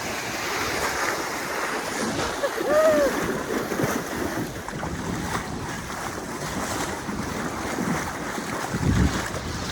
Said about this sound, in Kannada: ಲಿಟ್ರಲಿ ಓಷನ್ ಒಳಗೆ ನಡ್ಕೊಂಡು ಹೋಗ್ತಾ ಇದ್ದೀವಿ. Waves opposite ಹೊಡಿತಿದೆ.